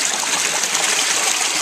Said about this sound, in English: that's where that extra water is shooting up out of there